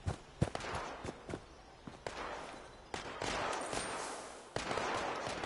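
Gunfire crackles in Fallout 76, scattered sharp shots and short bursts at a distance, fairly faint, over a low background of movement and ambient game sound.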